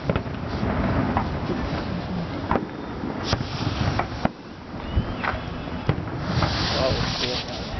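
Fireworks at an annual town firework show in Butte, Montana, popping and cracking in scattered sharp bursts over a steady crowd murmur, with people chatting nearby throughout.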